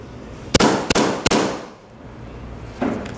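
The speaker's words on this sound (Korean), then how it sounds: "지금까지 사격해본 에어소프트 건 중에서 소리가 제일 큰 것 같아요" An Inokatsu Colt 1911 Series 70 (MKIV Government Model) airsoft pistol fires three loud, sharp cracking shots in quick succession, followed by a softer burst a moment later.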